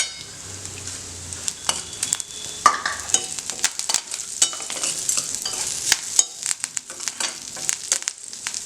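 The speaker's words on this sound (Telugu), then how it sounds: "నెక్స్ట్ మనం ఇందులో కరివేపాకు అనేది వేసేసుకుందాం" Curry leaves crackle and sputter as they fry in hot tempering oil, with sharp popping bursts and the clink of a spoon stirring the pan, close and fairly loud.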